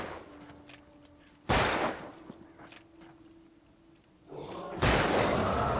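Two loud, sharp gunshot blasts ring out a few seconds apart in the video game Alan Wake, each followed by a dense burst of noise, with quieter game ambience and a low hum between them.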